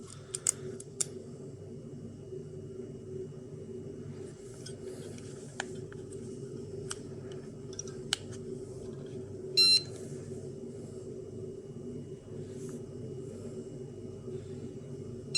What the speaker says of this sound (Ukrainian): Іде тест якби всіх систем, повністю весь світлодіод загорається, вібратор вмикається звук